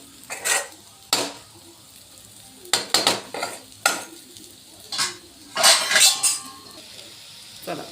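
Okra (bhindi) cooks in a pan with soft sizzling, broken up by several distinct bursts of a utensil stirring and scraping against the pan, close and fairly quiet with no talking.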